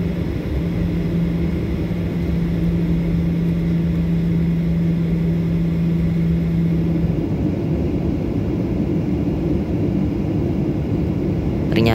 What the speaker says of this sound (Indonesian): Setelah kedua engine CFM56-7 menyala, pesawat pun memulai taksi ke runway 30 untuk lepas landas.